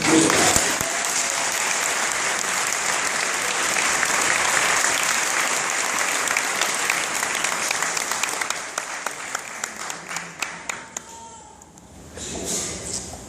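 A congregation at a tribute gathering claps for a priest, sustained loud applause filling the room for several seconds, thinning into scattered individual claps before a brief final swell.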